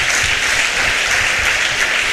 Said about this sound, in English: May you give our both teams a hand of applause.